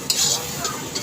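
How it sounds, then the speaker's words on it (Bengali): Spice paste stirred as it fries in oil in a pan, with a steady close sizzle and a few soft scraping strokes of a utensil against the pan. "এটা একটু সবসময় নাড়াচ্ছি কেন না, নিচে বসে যাচ্ছে।"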